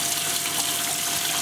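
Water streams steadily from an aquarium filter's spray bars, fed by a hose that narrows from larger to smaller, giving a constant close hiss and splash with no pauses.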